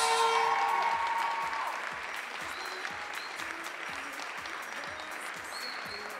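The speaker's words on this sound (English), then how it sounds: "Big round of applause for Serbia's Maria Malic." An audience at a junior women's 10m air rifle European Championship in Győr applauds a bronze medalist, a full burst of clapping that eases into steadier, thinner applause, fairly distant, without talk.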